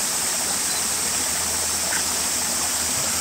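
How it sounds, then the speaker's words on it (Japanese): A park stream runs with a steady, close wash of flowing water, constant and unbroken, with no voices over it. "水の音。"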